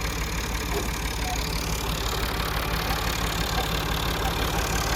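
Massey Ferguson 255 tractor engine idling with a broken piston, a steady, dense mechanical rumble heard close and alone throughout.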